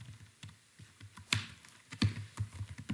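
HTML code typed on a computer keyboard, irregular close key taps with a few sharper, louder clacks, in a quiet room with no talking.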